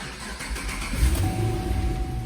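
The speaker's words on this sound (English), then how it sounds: "start the car" A Chevrolet Camaro SS engine cranks and fires up, settling into a loud, steady idle rumble close by with no one talking.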